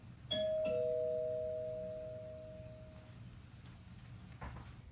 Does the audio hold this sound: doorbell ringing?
yes